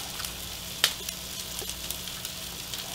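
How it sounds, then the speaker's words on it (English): Corned beef heats in a pan for a Reuben sandwich, giving a soft, steady sizzle with a few faint crackles and one sharper pop near the start. "I'm just heating up my corned beef"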